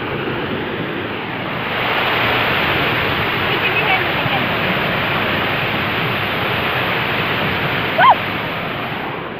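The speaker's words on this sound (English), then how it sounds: "We're just watching the waterfall." A waterfall at a stone rain catcher in Orting pours in a dense, steady roar of rushing water, loud and close, with a brief shout near the end.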